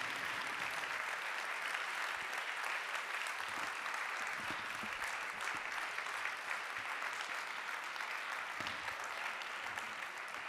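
Sustained audience applause for the jury's favorites on stage at an evening awards event, a steady dense wash of many hands clapping from a crowd, even in level throughout with faint whoops.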